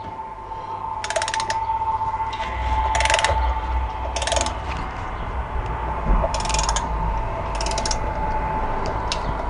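A ratchet turning a screw on the cylinder head of a Yamaha Virago 125 motorcycle, several bursts of rapid close clicking separated by short pauses, over a low background hum.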